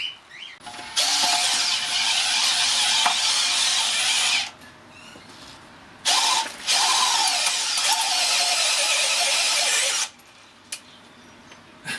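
A Makita HP001G 40-volt hammer drill driving an earth auger into clay: two long, loud bursts of high-pitched whining and grinding, each several seconds, separated by a brief pause and quieter gaps.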